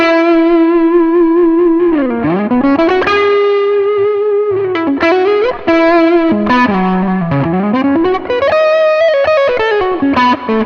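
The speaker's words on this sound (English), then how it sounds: "I do enjoy the neck pickup with a little bit of distortion because it gives you that creamy tone" Eastman T484 electric guitar on the neck pickup with a warm, creamy distorted tone played alone, melodic lines with bends and slides, sustained notes ringing with a touch of chorus and reverb.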